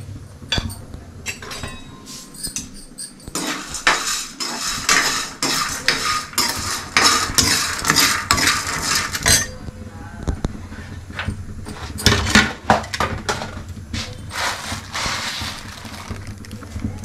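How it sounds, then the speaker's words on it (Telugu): Cloves, cardamom and cinnamon bark are stirred as they roast in a pan for a village-style stuffed brinjal curry, with repeated metallic scrapes and clinks of the spoon against the pan, busy in bursts with quieter pauses between. "ఇలా లవంగాలు, యాలకులు, చెక్క, ఇవి మంచిగా ఫ్రై చేసుకోవాలి."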